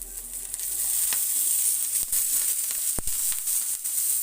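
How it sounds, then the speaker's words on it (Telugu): Tomatoes frying in a little oil give a steady, close sizzle that runs throughout, with a few soft stirring clicks and no talking. "కొంచెం ఆయిల్ వేసుకొని వాటిలోనే టమాటాలు వేయాలండి"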